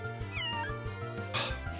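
A cat-like Catswort cry from the Pokemon Uranium game, a wavering electronic meow over steady looping battle music, followed by a bright noisy burst near the end.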